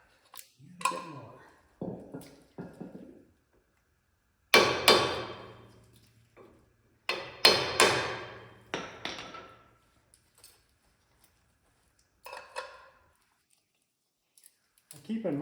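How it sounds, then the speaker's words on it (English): A hammer taps the metal backing ears of a brake pad into place on an RW1 buggy build, a few sharp clustered strikes at close range with pauses between them. "take the pad and a hammer, tap those little ears down so they fit tight"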